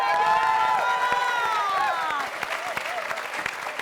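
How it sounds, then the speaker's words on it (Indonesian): A studio audience on a TV comedy show claps and cheers loudly, a dense wash of applause with whoops and shouted voices that thins out toward the end. "Oke, kita kasih tepuk tangan buat Bang Mali."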